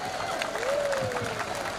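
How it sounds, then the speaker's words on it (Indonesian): Audience applause for a military commander, a moderate wash of clapping with a faint tone and some voices running beneath it. "Berikan tepuk tangan untuk Pomdam kami"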